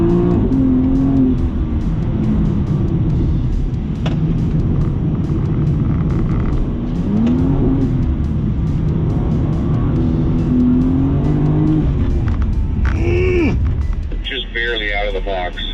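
GT4 race car at Thermal Club accelerating on track, a loud continuous engine roar with rising and falling revs through gear changes, radio chatter and voices talking over it near the end.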